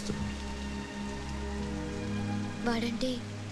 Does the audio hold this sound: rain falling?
yes